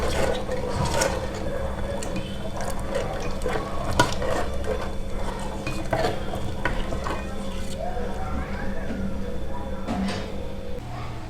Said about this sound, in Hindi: अब सब कुछ अच्छे से मिला लेंगे।